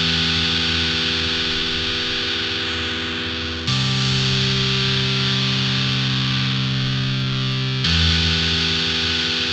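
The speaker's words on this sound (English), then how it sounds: "We're just going to use the distortion for now." A sustained guitar-like tone runs through the Fruity Hardcore distortion plugin in FL Studio for a shoegaze sound, thick, buzzy and harmonically dense, holding steady notes that shift pitch twice, loud with no voices.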